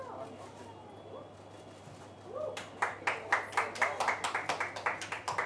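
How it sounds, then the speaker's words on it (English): A few people clap slowly and unevenly at a tea launch event, with distinct individual claps in a loose rhythm after a quiet stretch of faint background murmur. "Big round of applause, ladies and gentlemen."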